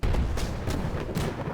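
Cannon fire in the video game Airships: Conquer the Skies: several short heavy booms in quick succession, loud and close over a constant low rumble, with no talk.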